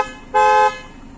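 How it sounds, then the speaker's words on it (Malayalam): An aftermarket Audi horn fitted to a Maruti Vitara Brezza gives one short, loud, bright toot close by, alone over quiet background. "അത് ആഫ്റ്റർ മാർക്കറ്റ് ഓഡിന്റെ ഹോണ് കയറ്റിയതാണ് വരുന്നത്"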